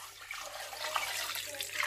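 Cold water pours steadily over a raw chicken in a pot, a continuous close splashing wash with no talking.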